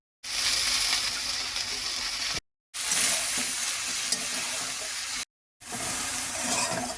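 Vegetables stir-frying in hot oil with chilli and onion in a heated kadhai, a steady loud sizzle with scraping stirs, broken by two brief silent gaps.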